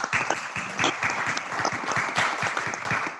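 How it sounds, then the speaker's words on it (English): Applause from attendees at a board of directors meeting for a colleague newly appointed as a commissioner: a short burst of scattered, fairly close hand claps, a modest group clapping steadily with no voices over it. "So a big round of applause for Jen."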